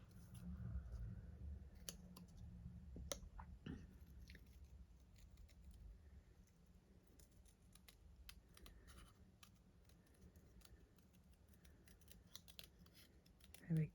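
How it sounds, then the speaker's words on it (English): Scissors fussy-cut around a stamped paper image in close, quiet snips and rustles that come irregularly over a low background hum, with no talking. "I might as well have just snipped around it"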